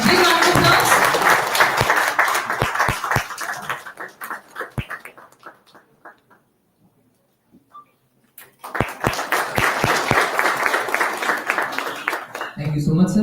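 Audience applause welcomes a guest to the stage at an industry-institution summit event, starting loud and dense, fading to scattered claps and near silence, then a second strong burst of clapping returns and holds to the end.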